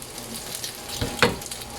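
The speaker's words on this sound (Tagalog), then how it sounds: "Let's just fry it for a minute" A burger steak patty fries in a pan with a steady close sizzle, a couple of brief louder spits or scrapes near the end, no talking.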